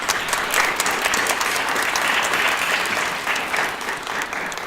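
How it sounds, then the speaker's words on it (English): A large audience applauds at a university convocation, a dense, even wash of clapping that holds steady and fades slightly at the end, with no talk. "let's give them another round of applause."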